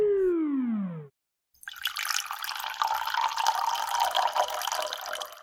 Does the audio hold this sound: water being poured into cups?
yes